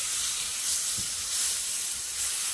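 An Angus sirloin roast sears in a hot pan, giving a steady, close sizzling hiss with slight swells, alone with no voices.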